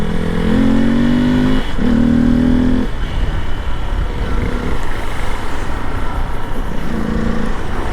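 Hero XPulse motorcycle fitted with a 234 big bore kit, its engine droning loud and steady while riding, with a rising whine in the first few seconds and engine noise continuing throughout.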